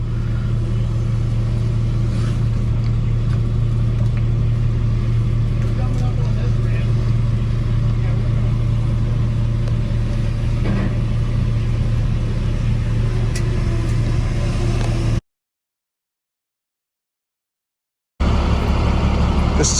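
An Acura Legend engine rumbles steadily at low pitch while driven in blistering heat, a constant loud drone throughout, with a brief cut to silence near the end.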